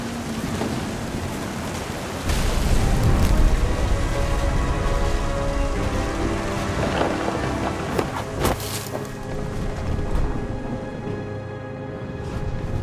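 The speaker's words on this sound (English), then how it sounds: "The thunder sounded much too close and full of angry power." Heavy rain pours steadily through a thunderstorm in the video game What Remains of Edith Finch, with rumbling thunder swelling near the start and a couple of sharp, close cracks later, all loud and without any voices.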